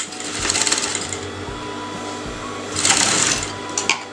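A sewing machine runs a basting stitch through canvas in two short close bursts, a fast whirring hum with pauses between.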